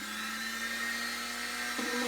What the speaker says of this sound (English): just let it make contact and then drill down.